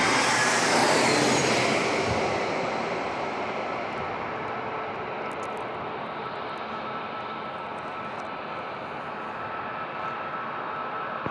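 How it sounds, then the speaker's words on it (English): Embraer E-175 jet airliner landing at San Diego International Airport, a broad roaring rush that peaks early then settles into a steady distant engine hiss. "We've got an E-175 landing here."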